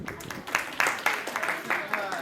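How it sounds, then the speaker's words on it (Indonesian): A small crowd claps, sparse and fairly quiet applause with distinct individual claps, while voices talk over it. "Tepuk tangan."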